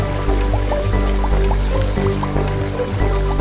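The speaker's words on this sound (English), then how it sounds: "then it rains." Cartoon rain falls from a cloud as a steady patter of drips over a loud, continuous musical backing with no talking.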